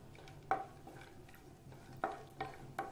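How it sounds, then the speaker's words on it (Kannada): Raisins frying in a pan for rava kesari make a quiet, low sizzle, broken by four sharp metallic clinks and scrapes from stirring the pan. "ದ್ರಾಕ್ಷಿ ಹಾಕ್ಕೊಂಡು ಅದು ದಪ್ಪಗಾಗೋವರೆಗೂ ಫ್ರೈ ಮಾಡ್ಕೊಳ್ಳೋಣ"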